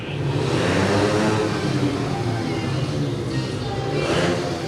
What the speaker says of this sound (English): Big revs there to clear the engine so they don't bog down when they're asked to move